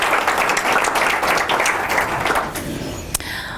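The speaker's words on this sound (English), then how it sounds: "So if we could have a round of applause for those two board members retiring as well." Audience applause at a community foundation's annual grant ceremony, honoring two retiring board members; dense steady clapping fills the room for a few seconds, then thins out toward the end.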